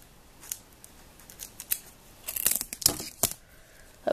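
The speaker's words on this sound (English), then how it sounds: "How do I get this tape off?" Sticky tape pulled away in short ripping bursts while trading cards and sleeves are handled, a run of crisp tearing and crinkling sounds, louder and denser toward the end, close to the mic with no talk.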